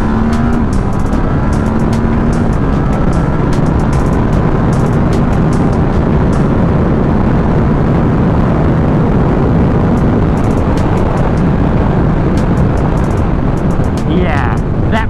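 A 2018 Ducati SuperSport S motorcycle pulls hard in second gear along a straight highway, its engine droning loud and steady with heavy wind roar throughout and a brief higher-pitched rise near the end.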